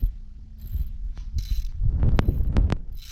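A ratchet tightening injectors on a 2005 Cummins engine, giving a few quick clicking bursts among scattered metallic clinks and workshop handling noise at close range.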